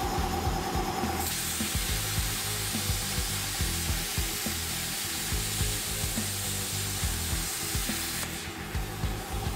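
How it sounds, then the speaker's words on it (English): A Simder SD-4050 plasma cutter slices through thin 16-gauge steel with a loud, steady hissing roar that runs nearly the whole time, starting and stopping sharply. "I cut some thinner 16-gauge steel with ease."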